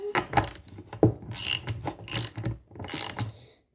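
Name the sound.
tightening nut onto skateboard wheel bolt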